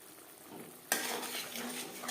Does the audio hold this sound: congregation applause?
no